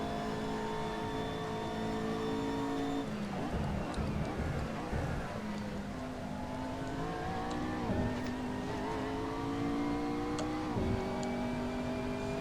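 A McLaren MP4 GT3 race car engine in Assetto Corsa, revving high and shifting through gears with a few dips and climbs in pitch, a steady loud drone with a voice faintly underneath.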